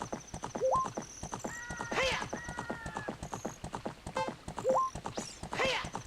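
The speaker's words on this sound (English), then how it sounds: "So we are, of course, on horseback." Epona, a horse in the video game The Legend of Zelda: Ocarina of Time, clip-clops in a steady galloping rhythm with whinnies and a neigh, backed by game music and chiming effects.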